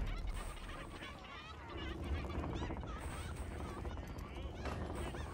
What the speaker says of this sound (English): Is that a ghost chicken?